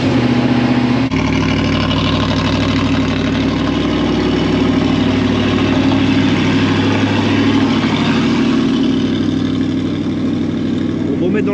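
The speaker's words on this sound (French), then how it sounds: "Oui, c'est pareil, il gueule un peu le V8 là." A V8 car engine runs steadily in a garage setting, a loud, continuous deep rumble with a firm low drone throughout, briefly shifting in tone early on, heard up close.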